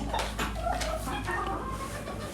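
Chickens of a light bantam breed group cluck in a coop on a farm, a few sharp, close clucks early, then softer ongoing calls under a low, steady background hum.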